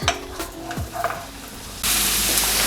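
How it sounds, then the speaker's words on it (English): Onion cooking in a pan for a red sauce, a few scrapes of stirring followed by a sudden loud, steady sizzle after the heat is turned up, with no talking. "gonna let that onion cook for a little bit"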